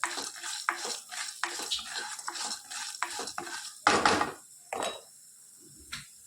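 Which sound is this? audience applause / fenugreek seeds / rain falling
fenugreek seeds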